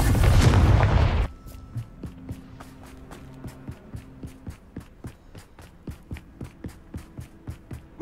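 A Confringo fire spell blast in Hogwarts Legacy, a loud close booming explosion at the start followed by a quieter run of regular thuds like footsteps.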